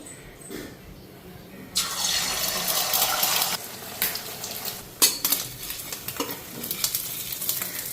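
An egg omelette fries in a pan in a home kitchen. Bursts of sizzling and hissing come and go, broken by scraping and clinks of a spatula against the pan.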